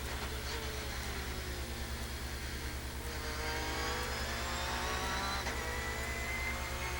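GT race cars, among them the number 34 Porsche, racing at the Bahrain GT Festival 2004, engines droning steadily at a distance with pitch sweeping up through gear changes.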